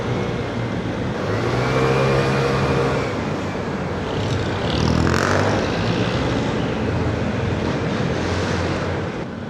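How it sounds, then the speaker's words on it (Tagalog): A steady engine drone runs throughout with broadband rushing noise, like a motorcycle heard while riding, with wind buffeting the microphone. "Ang ingay talaga nitong motor ko"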